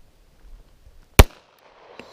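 A single sharp .45 caliber pistol shot outdoors, loud and close, following a quiet stretch and trailed by a brief echo.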